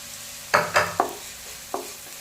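Chopped onions cook in a pan with a soft background sizzle, punctuated by three quick scraping stirs close together and one more a moment later, with no talking.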